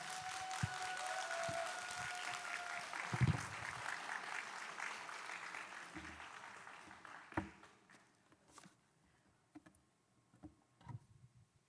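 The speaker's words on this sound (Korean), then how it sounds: "우리 박수로 환영하도록 하겠습니다" A church congregation at a Monday intercessory prayer meeting applauds to welcome a visiting pastor, a steady wash of clapping that gradually fades away, leaving a quiet room with scattered soft knocks and shuffles.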